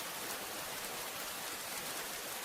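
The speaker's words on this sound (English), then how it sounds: "The rain no longer feels like something happening. It feels like something that has always been there." Rain falls at night on a hut as a soft, even hiss, steady and unbroken, fairly faint and with no other sounds.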